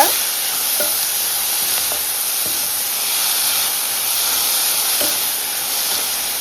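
Steady sizzling and hissing from onion and green chili sautéing in a hot pan fill the clip, with a few faint scrapes and clinks of stirring now and then.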